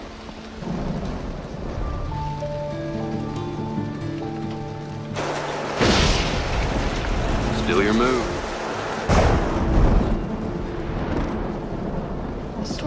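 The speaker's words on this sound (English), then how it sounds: "The storm's getting worse." Steady rain with loud cracks and rumbles of thunder rolling in twice, while a music-like tone and a person's brief speech sit underneath.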